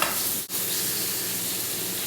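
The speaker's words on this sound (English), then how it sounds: "It's got a nice little sizzle" Steady, loud sizzling of chicken thighs frying in hot bacon grease over medium-high heat, a continuous crackling hiss with a brief dip near the start.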